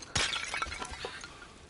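In the God of War (2018) video game, an object is smashed with a sharp loud shattering crash followed by a scatter of smaller clinking and breaking debris that trails off quietly.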